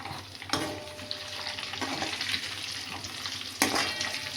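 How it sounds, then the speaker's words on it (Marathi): Red chillies and garlic fry in oil over a low flame, sizzling steadily close up, while a spoon scrapes and stirs through the pan now and then. "हे लो फ्लेमवरच ना आपण तळून घेणार आहोत"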